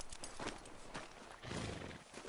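Horse hooves clip-clopping in the video game Red Dead Redemption 2, a quick soft rhythm of hoofbeats with an occasional snort, fairly faint and with no speech.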